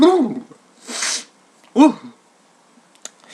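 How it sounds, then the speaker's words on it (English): A single sharp sneeze bursts out between bits of speech, close and loud, with a breathy hiss just before it. "I'm going to sneeze."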